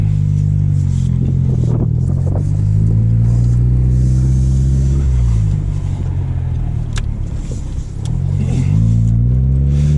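A 1998 Honda Civic EX engine while driving, heard from inside the cabin as a loud, steady low hum that rises and falls with gear shifts and acceleration, with no talking.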